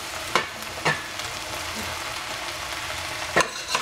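Eggplant and cabbage fry in a pan with a steady, close sizzle, broken by a few sharp scrapes of stirring near the start and end.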